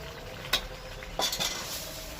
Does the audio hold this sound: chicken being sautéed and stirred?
yes